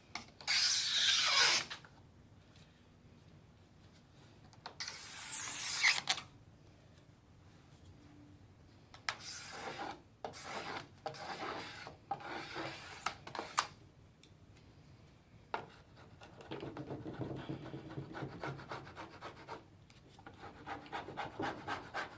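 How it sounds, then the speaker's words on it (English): A razor blade scrapes old tape residue from inside the glass frame of a merchandising cooler, making short rasping strokes in bursts, close to the microphone, with quieter stretches between. "I'll take just a regular razor blade, and I'll scrape the inside of this frame, basically breaking loose any of the old debris that's left in there"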